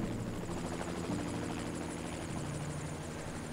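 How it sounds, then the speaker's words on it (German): A helicopter arrives in the Evil Genius video game, its steady rotor thump and engine drone sounding loud and continuous throughout, with no talk over it. "Ein Hubschrauber mit Ermittlern."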